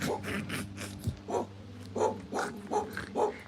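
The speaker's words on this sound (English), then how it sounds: "Must be an old sled dog." An old sled dog at the Iditarod Hall of Fame near Wasilla, Alaska, giving a series of close barks and yips at a fairly regular pace with brief whimpers between them.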